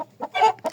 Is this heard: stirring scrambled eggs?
no